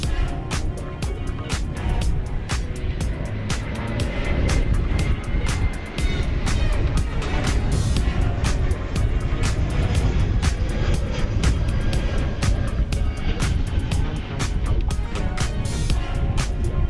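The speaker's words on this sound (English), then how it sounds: "That's Alaska Airlines 303 going to Portland, Oregon, a 737-900 on Runway DFW." Alaska Airlines Boeing 737-900 jet on the move at Dallas Fort Worth airport, a continuous broad engine roar heard from outdoors, steady and fairly loud, with wind buffeting the microphone.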